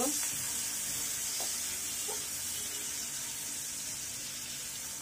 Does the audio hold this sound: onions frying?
yes